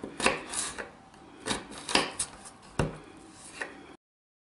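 A knife slices a leek finely on a board with a handful of soft, uneven cuts, some in quick pairs, each a short crisp knock in quiet surroundings.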